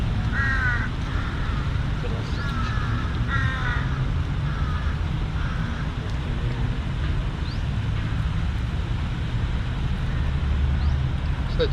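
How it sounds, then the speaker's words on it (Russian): Crows caw in Thailand, a few repeated harsh calls rising over a steady loud background rumble of traffic and wind, with no voices. "Вороны каркают."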